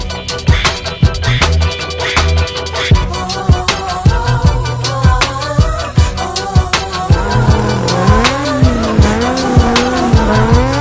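A race car pulls away hard with loud, repeated tire squeals and a revving engine, the squeals coming in rapid bursts that rise and fall in pitch, close and continuous.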